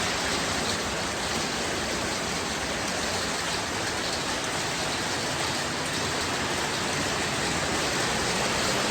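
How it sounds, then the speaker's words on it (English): Steady, dense rain pouring down, a loud continuous hiss of drops hitting surfaces with no pauses or voices. "Wee bit of rain."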